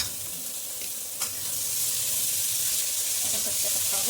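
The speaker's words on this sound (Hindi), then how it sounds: "अब इसमें डालेंगे प्याज" Onions sizzling and frying in a pan for a bhindi (okra) dish, a steady hiss that rises slightly and continues throughout at moderate loudness, with occasional faint stirring clicks.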